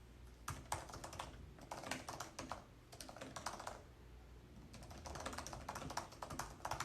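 Quick runs of keystrokes clatter on a computer keyboard, close and fairly soft, coming in bursts separated by short pauses, with no talking.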